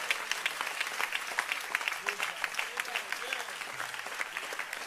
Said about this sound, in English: I thought somebody would clap their hands because God is speaking to somebody.